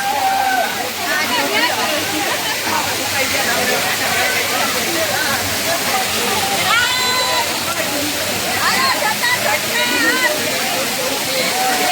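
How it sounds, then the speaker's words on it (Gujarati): A jungle waterfall roars in a steady, loud rush of falling and splashing water that fills the whole stretch without pause, with faint voices now and then under the noise. "જો આ સૌથી ઉપરથી ધોધ આવે"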